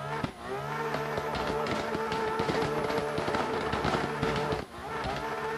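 Simulated BMW M4 racing through Assetto Corsa with a dense, continuous engine roar studded with sharp exhaust bangs and pops, loud and close throughout with a brief dip near the end.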